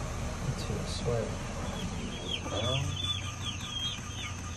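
Several chickens cluck and squawk nearby amid rustling and background noise, with a person's voice faintly underneath.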